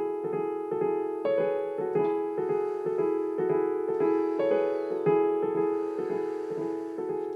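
An orchestral texture imitating rustling leaves and plants: soft, sustained chords carry a steady repeating pulse, gently shifting in a continuous, hushed wash.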